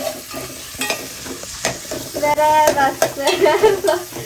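Onions frying and being stirred in a pot for soya dum biryani, loud close sizzling with repeated scraping strokes and clattery bursts that grow busier toward the end.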